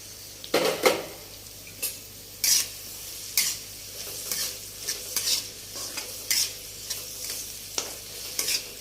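Onions frying in mustard oil while a ladle stirs them, giving repeated scraping strokes against the pan over a soft, steady sizzle, close and with no talking.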